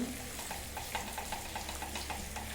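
Fish pieces sizzle steadily in hot oil in a pan while being turned, a continuous close frying crackle with faint scraping of the spatula and no talk.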